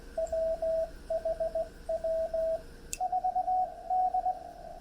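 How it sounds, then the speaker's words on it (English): Morse code CW on ham radio, a TX-500 receiving steady strings of short tones in rhythmic groups over a faint hiss of static, then a second, weaker signal sending faster characters. "So I hear his dit."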